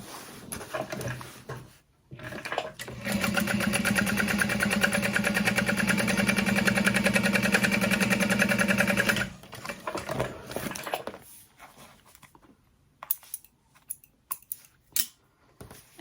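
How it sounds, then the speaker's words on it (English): A sewing machine top stitching a fabric backpack panel runs in one steady, fast mechanical whir for about six seconds, preceded and followed by short start-stop bursts and handling clicks. "We're going to flip this panel up and top stitch on the middle panel."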